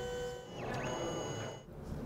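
A mobile photo printer prints a selfie with a steady whirring mechanical hum and faint warbling, modem-like electronic tones, close and moderate in level, with no talking.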